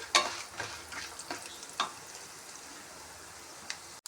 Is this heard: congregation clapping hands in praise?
no